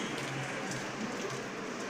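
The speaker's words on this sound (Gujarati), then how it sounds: "આપણે વરસાદ ચાલુ જ છે સવારનો" Soft, continuous patter of rain, a steady hiss of drops on surfaces with no voices.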